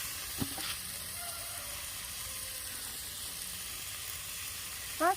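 Crab biryani masala being stirred in a frying pan, a soft steady sizzle with a couple of brief utensil scrapes near the start and a short clatter at the end, no voices.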